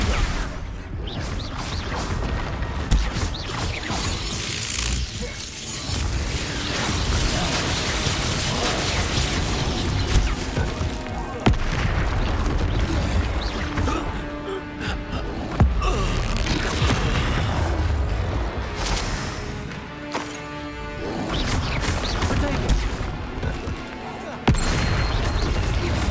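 Expulso blasting-spell explosions and combat in Hogwarts Legacy, a dense, continuous roar of booms, mechanical clatter and impacts with music, with a voice speaking at times.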